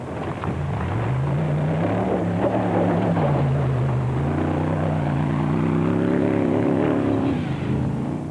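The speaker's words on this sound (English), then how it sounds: "Berthold was curbing his natural inclination to give the Nissan engine Bat its head" A Nissan-engined Bat off-road race car at the 2005 Lesotho Sun 400 drones loudly and steadily, its engine pitch rising and falling as it drives past, with no talk.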